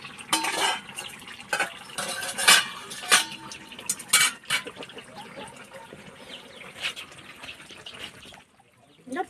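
A pot of leafy wild-greens curry being lifted off the stove, with clattering metal, a spoon knocking against the pot and a soft bubbling sizzle, close and fairly busy before it goes quiet.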